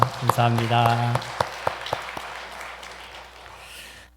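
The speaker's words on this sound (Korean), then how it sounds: "우리 하나님께 감사의 박수 한번 올려드리겠습니다" A church congregation at Yeosu Dongsan Church's Sunday worship service breaks into applause of scattered claps that thin out and fade over a few seconds, following a man's brief spoken thanks at the start.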